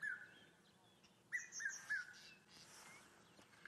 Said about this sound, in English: There's the bird, the red-chested cuckoo.